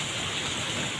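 Steady rain falling in monsoon weather, a continuous broadband wash of droplets close by, even and unbroken with no voices.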